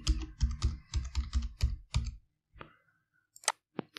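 Typing on a computer keyboard, a quick run of close, distinct key clicks that slows into a few isolated taps, with no talking.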